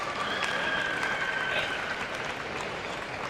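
A table tennis crowd at the 2025 Asian Championships final breaks into steady applause after a point, a dense, even wash of clapping and murmur that holds at moderate loudness throughout.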